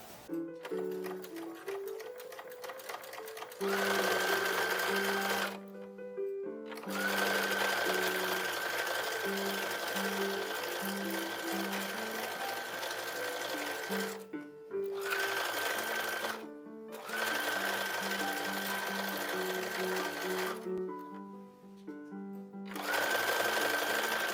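Sewing machine stitching quarter-inch French seams on a 1930s–1940s style toddler dress, running in several long loud bursts separated by short pauses, with no talk over it.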